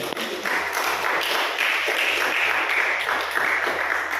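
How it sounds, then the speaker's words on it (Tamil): A church congregation clapping hands in thanks to the Lord, sustained loud applause from many people with a steady, dense rhythm of claps filling the whole stretch. "கைத்தட்டி ஆண்டருக்கு நன்றி சொல்லாம"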